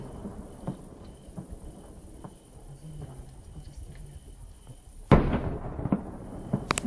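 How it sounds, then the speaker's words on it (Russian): Distant artillery ranging shots strike one spot along a road in the Donbass, a dull boom rumbling far off, followed by a sharper, louder thud with wind noise and faint voices. "Что в одну точку долбят туда? Пристрел."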